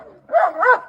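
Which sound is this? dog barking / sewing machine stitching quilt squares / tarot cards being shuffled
dog barking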